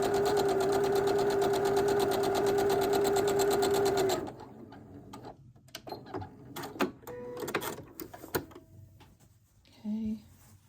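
A sewing machine stitches long quilt blocks with a steady, loud mechanical whir for about four seconds, then stops, followed by fabric handling clicks and rustles and a brief burst of machine noise near the end.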